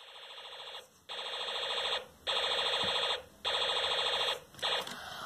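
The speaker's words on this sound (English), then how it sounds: "those were all the sounds from the U2 alarm integrated circuit" A Snap Circuits U2 alarm integrated circuit sounds a loud electronic siren tone in four long pulses separated by brief gaps, followed by a shorter final burst, with nothing else audible.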